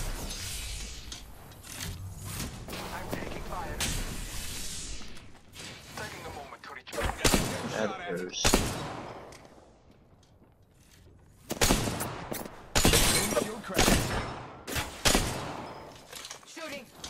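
Video game firefight: bursts of automatic gunfire and sharp shots come in clusters, loud and close, separated by brief lulls with clicking mechanisms and game sounds between volleys.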